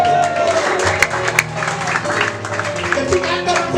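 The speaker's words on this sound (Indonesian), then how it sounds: "berikan tepuk tangan" Congregation applause at a Christmas church service, a steady mass of clapping filling the whole moment, with a couple of sharper individual claps standing out and a faint murmur of voices underneath.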